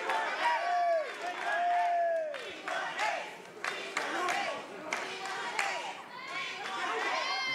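A crowd cheers and roars at a World Class Pro Wrestling tag-team match in an arena, a continuous loud wash of voices that sits under a commentator's talk.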